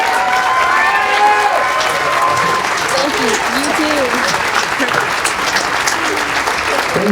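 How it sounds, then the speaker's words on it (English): Audience applause and cheering for a mariachi band at a live evening concert, dense steady clapping throughout with crowd voices and a few whoops rising over it. "One round of applause, Mariachi Los Caciques,"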